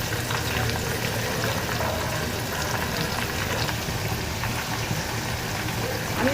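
Herbs frying and bubbling in foaming coconut oil for a homemade hair oil, a steady dense sizzle with a low rumbling undertone, continuous and fairly close with no pauses.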